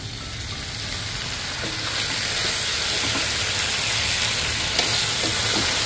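Sesame oil sizzles steadily in a hot wok, a dense, continuous frying hiss that holds close and even throughout with no voices over it.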